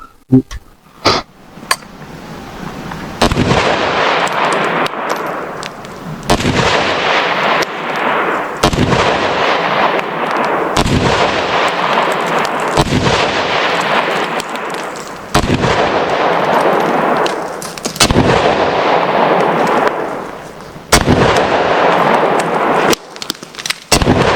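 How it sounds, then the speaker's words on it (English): AK-47 / AK-103 rifle fired during a combat drill, sounding as roughly a dozen loud, sharp close shots at irregular spacing, alone with no talk. "go ahead and squeeze off your rounds"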